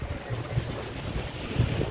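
Wind at a beach resort blusters across the microphone in a continuous low rumble, with gusty buffeting and no voices.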